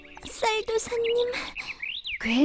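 Bright birds chirp and tweet in an animated cartoon, with quick rising and falling calls close up, mixed with other cartoon voices and sound effects.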